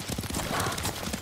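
Horse hooves clop in a quick, even rhythm during a ride in the samurai game Ghost of Tsushima, close and moderately loud under game ambience.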